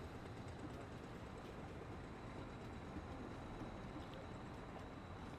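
Steady, dense rumble of a busy Istanbul train station, low mechanical drone with a constant wash of distant activity and no clear voices.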